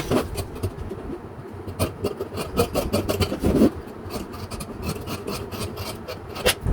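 Blouse fabric being cut with scissors, a close, steady rasping snip-and-rub texture of blades through cloth, continuing without pause and with no talking.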